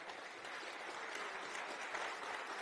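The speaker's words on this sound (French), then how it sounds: "On peut les applaudir tous les deux." An audience applauds at an event about a company's office renovation, a steady close wash of many hands clapping together without pause.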